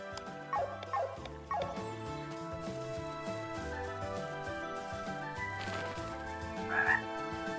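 Frogs croak in the video game Chained Echoes: a few short croaks early on and another burst near the end, set over looping game music with a steady bass line.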